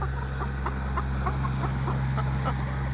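Grown laying hens cluck in a series of short, evenly spaced calls over a constant low mechanical hum, the birds sounding moderately close.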